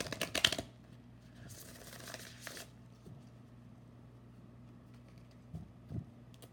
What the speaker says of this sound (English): Just doing however many shuffles.